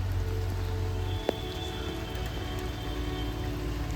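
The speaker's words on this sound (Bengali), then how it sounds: "আর হঠাৎ করে এমন বৃষ্টিগুলো নামছে" Steady rain pours down outdoors as a continuous, fairly loud broadband hiss, with a low hum dropping out early and one sharp tap.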